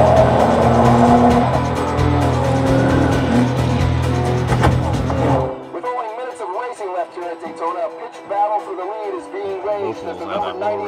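A race car scene from the film Ford v Ferrari plays loudly on a high-end home theater system with Meyer Sound speakers: roaring engines and squealing tires fill the first half, then cut off abruptly as people talk.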